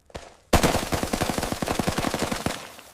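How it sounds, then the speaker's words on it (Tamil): Devi Fireworks firecrackers going off in a rapid, loud string of sharp cracks after a brief opening pop, bursting in quick machine-gun-like succession for a few seconds. "இந்த கடை பட்டாசு இது டிஃப்ரெண்டாவும் இருக்கு, சூப்பராவும் வெடிக்குது"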